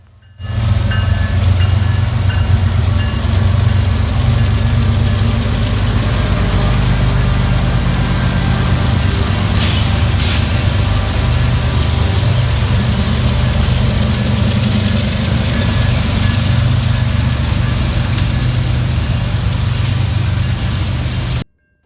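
CN freight train MALG3 rolling through Elmhurst, a loud, heavy low rumble of locomotive engines and wagons that holds steady and close for over twenty seconds, with occasional brief metallic squeaks and no voices.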